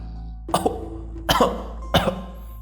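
Three separate harsh coughs, each a short burst with a brief follow-up, spaced under a second apart, fairly close and loud.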